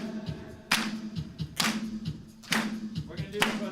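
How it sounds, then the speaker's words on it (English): Congregation at a Sunday church service clapping along in rhythm, sharp claps landing at steady intervals over a held musical tone, close and moderately loud. "We're going to clap that one."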